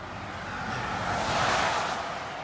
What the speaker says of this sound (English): excuse the road noise